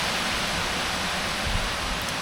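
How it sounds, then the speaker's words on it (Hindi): Heavy rain pours down steadily through a night storm, a dense, even hiss with no pauses, close and loud, with no voices. "रात में तूफान हो रही है, बारिश हो रही है"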